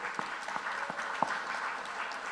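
An audience applauds at a political speech in Suriname, steady dense clapping from a crowd that holds evenly throughout without voices.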